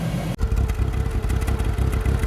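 A Honda Acty minitruck engine idles near the exhaust, giving a steady, loud, rough low rumble with rapid mechanical clatter and pulsing, running on after a brief dip at the start.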